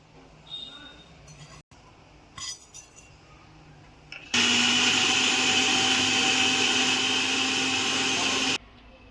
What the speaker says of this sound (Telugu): ఉల్లిగడ్డలను మిక్సీలో వేసి వీటిని కూడా మెత్తగా పేస్ట్ లాగా తయారు చేసుకుందాం